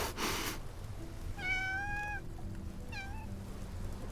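A cat in the game Love & Deepspace gives two clear meows, a longer one then a short one, close and clean over a quiet hum after a brief rustle.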